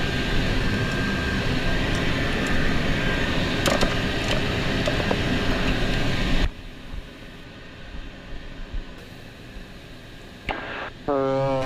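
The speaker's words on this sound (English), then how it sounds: "Двигатель запущен." A Pilatus PC-12NG turboprop engine runs with a loud, steady broadband roar heard from the cockpit, which drops abruptly to a quieter hum partway through, with a brief tonal burst near the end.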